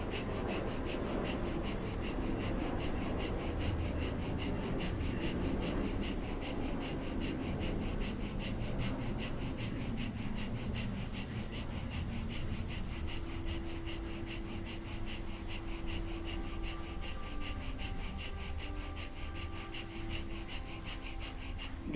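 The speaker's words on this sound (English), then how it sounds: "Really focus on that breath of fire." Breath of fire yoga breathing, a steady stream of rapid rhythmic forceful breaths, close and continuous, with soft rubbing noise underneath and a faint sustained tone in the later part.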